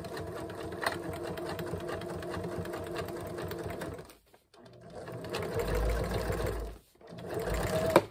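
A sewing machine stitches through four layers of fabric plus a layer of plastic from recycled food packaging, using a regular sharp needle. It runs in steady continuous bursts with two brief pauses, close and fairly loud, and nobody talks over it.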